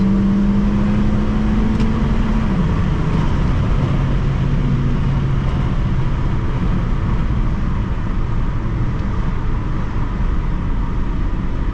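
A turbocharged Honda Civic with an R18 engine and a Civic Si exhaust on low boost, driving on a wet road, accelerating with a steady drone whose pitch rises and then falls, heard close from inside the car for the whole stretch.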